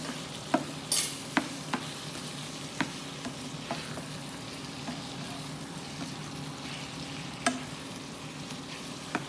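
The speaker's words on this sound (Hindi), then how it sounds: "अब जब मैं इसको थोड़ा सा फिर चलाती हूँ" A spoon stirs a spicy loki (kadoo) vegetable dish with onion and salt in a pan, a steady low sizzle underneath, with periodic scraping clinks against the metal and one brief louder clatter near the start.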